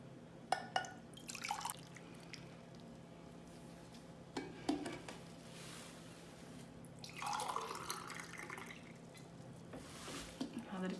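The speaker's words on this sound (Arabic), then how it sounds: "راح احط لها بعد قلاص خل وهم 3 قلاصات ماي" Vinegar and water are poured into a glass jar of red pickles, giving quiet splashing and trickling in short bursts with faint clinks from a low-level kitchen setting.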